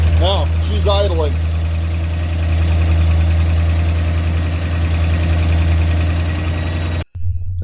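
A 1963 Mercury Monterey engine idles steadily and loudly, a deep continuous rumble with a faint knock, heard close up with a brief voice at the start before it cuts off near the end.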